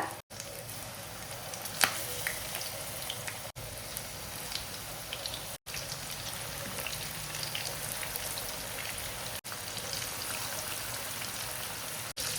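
Dusted chicken pieces for homemade KFC-style chicken frying in hot oil in a pan, a continuous crackling sizzle with fine popping texture, briefly dropping out a few times.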